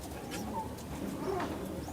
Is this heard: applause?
no